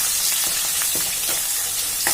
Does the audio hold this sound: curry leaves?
yes